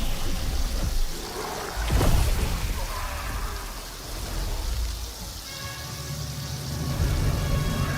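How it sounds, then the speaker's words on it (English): Steady rain with a brief thunder-like rumble near the start, from a deliberately paced game trailer shown at Gamescom Opening Night Live, continuous and fairly loud throughout with no talk over it. "That rain doesn't sound right."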